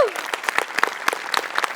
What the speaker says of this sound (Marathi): तुझ्यासाठी टाळ्या